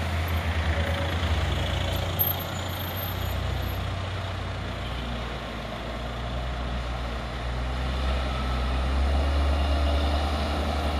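A Hino truck with trailer idles with a low diesel rumble on the Bukit Kodok hill, then pulls away uphill, the engine swelling and labouring toward the end, with a brief hiss of air release early on.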